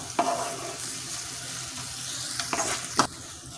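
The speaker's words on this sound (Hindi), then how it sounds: "इसके स्टेम्स मैं इसमें डालूँगी। इससे इसका फ्लेवर बहुत अच्छा आता है ग्रेवी का। इसे हम थोड़ा" Coriander stems fry in a simmering masala gravy in a pan, giving a steady close sizzle and bubbling with a few sharper stirring scrapes and spatters.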